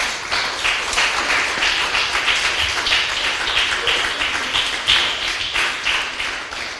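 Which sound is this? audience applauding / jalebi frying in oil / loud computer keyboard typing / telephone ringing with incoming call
audience applauding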